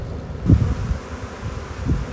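Low, steady buzzing of a swarm of honey bees fills the clip, with a couple of louder swells as insects pass close, under faint outdoor wind.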